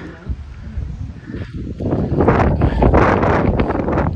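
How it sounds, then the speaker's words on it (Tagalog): Cold wind blowing on a mountain trail near Seoul, South Korea, a rushing gusty roar that swells louder in the second half as a person speaks over it. "Lamig ng hangin dito."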